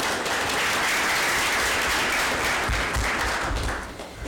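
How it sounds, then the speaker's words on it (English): An audience at a policy forum panel applauds to welcome a panelist, a dense, steady wash of clapping from a sizeable crowd that tapers off at the end. "So welcome everyone with a round of applause."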